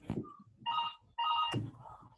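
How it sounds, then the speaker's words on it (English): A telephone rings in the background of a remote meeting, two clear electronic ring bursts with brief gaps and a faint click, fairly quiet and distant. "I can hear a phone in the background"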